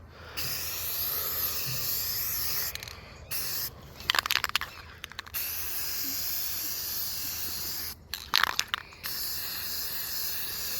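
Spray paint hisses steadily in short and long bursts onto the shoulder of a model rocket, with brief pauses between passes, close and moderately quiet.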